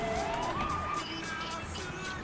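Police car siren in the video game GTA III, a rising and falling wail running steadily through the whole clip over game engine noise.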